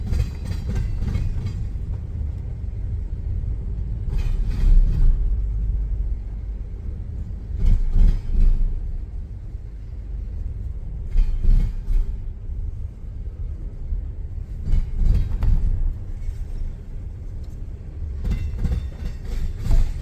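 Two CSX freight trains passing each other east of North Baltimore, Ohio, a continuous heavy rumble with rhythmic clickety-clack of wheels over rail joints repeating every few seconds, loud and close.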